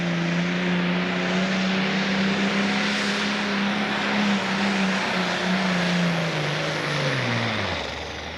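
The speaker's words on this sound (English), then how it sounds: "It's a 1066 International, bringing the RPMs up." An International 1066 pulling tractor at a 1995 Pro Stock pull in Connersville, Indiana revs hard and loud with a sustained engine roar whose pitch holds high, then drops at the end as the run winds down.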